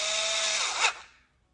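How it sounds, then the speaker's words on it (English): A small power drill runs in one short burst driving a screw snug on a 2012-2014 Ford Focus 2.0 L MAF sensor, with a rising whine that cuts off abruptly, loud and close. "Take my little drill."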